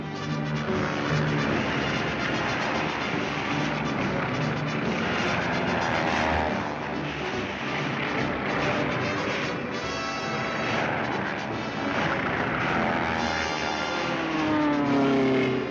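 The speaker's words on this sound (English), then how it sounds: "During maneuvers, pursuit planes engage each other in aerial games." Propeller-driven pursuit planes in a vintage Warner Bros cartoon roar continuously overhead, engines droning and whining as the aircraft wheel through mock aerial combat, loud and unbroken for the whole stretch.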